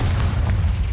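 In the video game Hogwarts Legacy, the Confringo explosive spell gives a short, loud, booming blast with heavy low rumble throughout.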